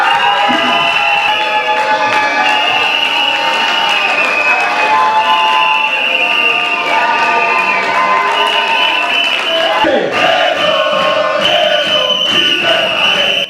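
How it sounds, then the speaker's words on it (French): A large crowd at an event with Denis Mukwege applauds and cheers for a speaker being called up, loud and continuous, with shouts, whistles and voices mixed into the dense wash of clapping. "Chers amis, sous vos applaudissements, j'appelle mon cher ami DM Didier Mumengi."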